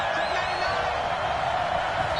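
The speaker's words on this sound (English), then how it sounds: "the crowd getting into it as we come up on a big 3rd down" Stadium crowd in an American football video game on PS4, a steady dense roar of cheering with scattered whistles, loud and continuous throughout a big late-game third down.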